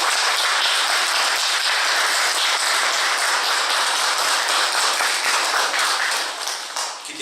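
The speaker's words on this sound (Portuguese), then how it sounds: "Eu queria pedir para vocês dar uma salva de palmas para todos os pais" A congregation at a Spiritist talk applauds for all fathers, a loud, dense and continuous clapping that holds evenly for several seconds before tapering off at the end.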